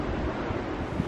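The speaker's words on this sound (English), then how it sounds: "So this is the back side of the house overlooking the ocean." Ocean surf at Timber Point in Biddeford, Maine, heard from behind a house overlooking the water: a steady, broad wash of waves mixed with wind rumble on the microphone, with no voices.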